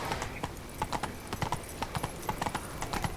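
Horse hooves clip-clop in a steady trot in The Witcher 3, a brisk rhythmic beat of soft thuds and clacks running throughout at moderate distance, with no talking.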